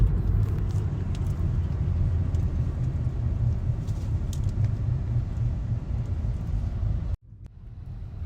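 Dense road traffic in Manila, a steady loud engine rumble and car noise continuing without pause, ending in a sudden cut to quieter ambience near the end.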